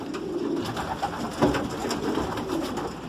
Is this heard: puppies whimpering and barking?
no